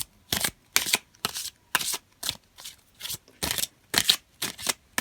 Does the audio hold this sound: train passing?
no